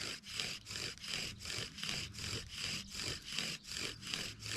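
Steady rhythmic wooden friction from a bow drill on a cedar board, a rasping back-and-forth rub repeating about twice per second, close and moderately loud.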